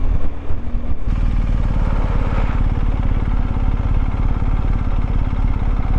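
A motorcycle engine runs loud and close with a steady pulsing throb as the bike is ridden, after a brief rougher burst at the start.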